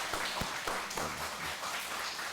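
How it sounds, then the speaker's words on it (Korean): A church congregation gives welcoming applause during a worship service, a continuous dense patter of many hands clapping at moderate volume, with no talk. "다 같이 환영의 박수 드리겠습니다."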